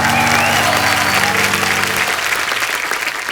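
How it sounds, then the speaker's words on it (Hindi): A television comedy show's studio audience applauds loudly after a performance, dense clapping over the tail of fading music, tapering off toward the end. "आयुष्मान राजकुमार और कृति के इस खूबसूरत परफॉर्मेंस के लिए जोरदार तालियां"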